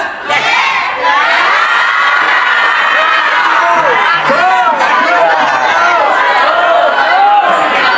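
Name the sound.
crowd shouting yes loudly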